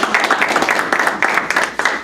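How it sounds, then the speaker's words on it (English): An audience claps after a student final presentation, a brisk, dense patter of many hands at close range, steady throughout the short burst. "A round of applause"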